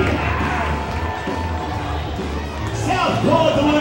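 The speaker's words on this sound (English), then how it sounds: "Everybody, one more time, big round of applause." Crowd noise fills a minor-league baseball stadium as the Long Island Ducks host the Bridgeport Bluefish, a broad steady roar of cheering and applause with voices mixed in, swelling slightly louder near the end.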